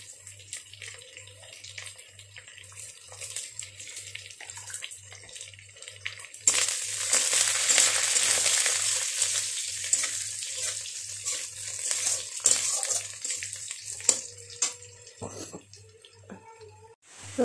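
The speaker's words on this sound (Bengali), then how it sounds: "এখন আমি এটাতে রসুন কুচিগুলো দিয়ে দিচ্ছি।" Chopped garlic sizzling in hot oil with onions in a pan while cooking jackfruit seed dal, a steady hiss that swells loudly partway through and continues with small pops and crackles.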